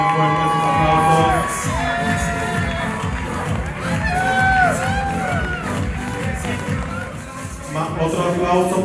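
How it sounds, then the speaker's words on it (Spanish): A crowd of guests at a quinceañera party cheers and applauds loudly, with whoops and excited shouting voices, some of them children, rising and falling over a continuous roar. "Otro aplauso, por favor."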